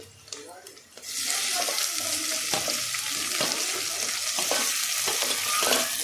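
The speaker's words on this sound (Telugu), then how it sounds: "ఈ దోరగా వచ్చిన దాంట్లో నేను టమాటా ముక్కలు వేస్తున్నాను." Tomato pieces dropped into a pan of browned onions set off a sudden loud sizzle that keeps up steadily, with occasional clicks of stirring.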